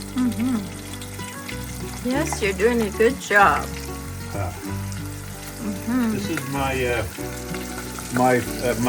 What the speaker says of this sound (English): Hear the sizzle there